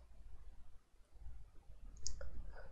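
A computer mouse button clicks once, a short crisp tick followed by a faint second click, close and quiet over low background hum.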